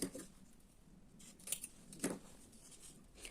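Scissors cutting pieces of ribbon, about 15 cm long, for handmade earrings, with a few quiet, close snips spaced apart against a soft background.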